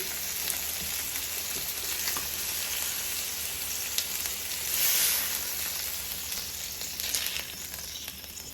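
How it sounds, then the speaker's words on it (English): Chicken breasts for honey mustard chicken sear in a hot pan, giving a loud, continuous close-up sizzle with small crackling pops and a slight swell midway, no voices. "And let it sear a little bit more"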